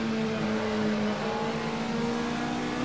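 Volkswagen Beetle race car in the racing game Automobilista, its engine droning steadily and loudly throughout with a sustained mid-pitched tone that shifts slightly, no talking over it.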